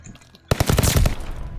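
Welgun submachine gun in Call of Duty: Vanguard opens up after a brief quiet moment, loosing a close, loud burst of rapid automatic fire that rattles on for about a second.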